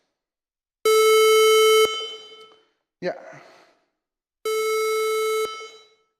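Harsh square-wave tone generated by a Ruby oscillator: two loud, buzzy one-second blasts on a steady pitch, separated by a brief spoken word, each cutting off abruptly with a short ringing tail.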